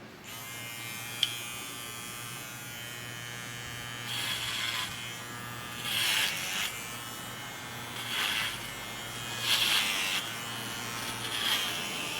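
An electric hair clipper buzzes steadily while cutting a person's coarse hair at home, its hum rising into louder bursts each time it passes through the hair, close by with no talking.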